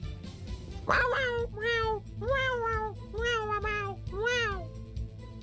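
A human voice imitates a cat, giving a series of five drawn-out meows in quick succession, close and clear, with no other talk.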